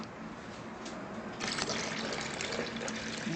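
Cold water pours steadily from a container for a lime, sugar and water drink, a continuous liquid trickle that swells into a fuller, louder gush partway through, close and without talk.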